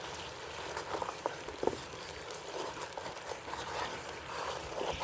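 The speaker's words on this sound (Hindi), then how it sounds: "देखो चीनी पक रही है और मैं मसलसल चम्मच के साथ हिला रही हूँ।" Sugar cooking in a pan for suji kheer while being stirred steadily with a spoon, a soft continuous bubbling sizzle with faint spoon scrapes and taps, quiet and close.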